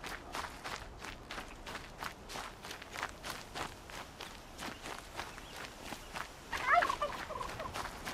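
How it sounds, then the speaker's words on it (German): Turkey gobbling in the video game Horizon Zero Dawn, a repeated burbling call over a steady run of game footsteps and ambient sound, with a brief louder burst near the end. "Ja, Truthahn."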